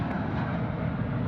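Airliner departing Sydney Airport, a steady broad engine roar heard at moderate distance, continuous and even without rising or fading, no voices.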